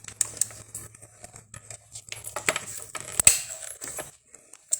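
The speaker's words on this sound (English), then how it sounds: "we're going to die cut our mittens" A die cutting machine cutting paper mitten shapes for card making, heard as a run of close, sharp clicks, taps and rattles with one louder snap, alone without talk.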